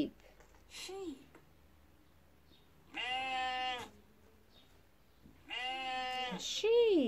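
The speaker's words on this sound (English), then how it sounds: "A sheep." A sheep bleating in two loud, wavering calls a couple of seconds apart, with a brief spoken word beforehand and another voice at the end.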